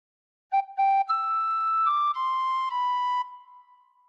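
A tin whistle plays a short phrase of the Star Spangled Banner, a few clear, pure notes stepping through the melody and ending on a held tone, solo and close.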